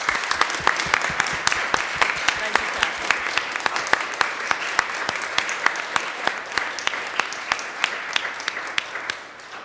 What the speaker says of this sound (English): I wanted to just make sure that we give a round of applause for Kathy DeRosa